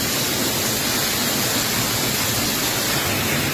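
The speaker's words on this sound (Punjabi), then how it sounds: "ਕਿ ਗੜਿਆਂ ਦੀ ਆਵਾਜ਼ ਹੈ ਉੱਪਰਲੇ ਪਾਸੇ" Hail pelts a fiber sheet roof during a Punjab storm in February, a thick unbroken rattle and hiss, loud and close, with no voices.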